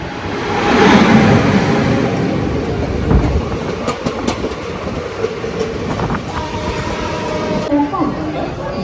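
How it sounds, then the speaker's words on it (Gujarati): A train rumbles past close by at a railway crossing, with rattling, clattering wheels and metallic squeals over a steady roar, and faint voices underneath. "એ પહેલાં ટ્રેન આ છે ક્રોસિંગ"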